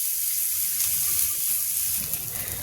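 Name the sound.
onions frying slowly in a pan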